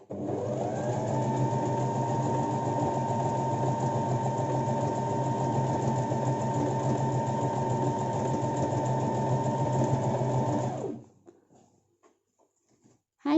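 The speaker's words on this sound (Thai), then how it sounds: "สังเกตการประคองผ้านะคะแล้วก็เย็บ ฝึกเย็บต่อนะคะ" A sewing machine runs a straight seam through fabric during beginner practice, giving a steady, close, continuous motor whir and needle rattle for about eleven seconds before cutting off into near silence.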